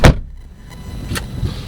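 Door of a 2016 Peugeot 308 HDi Allure hatchback shuts with a solid, close thud, followed by a couple of softer knocks and faint rattles.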